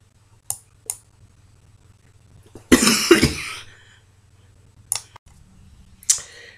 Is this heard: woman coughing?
yes